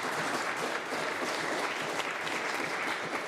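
Members of the Legislative Assembly of Alberta applaud a welcome in the chamber, a dense, steady wash of clapping from many hands that holds evenly for several seconds with no talk over it.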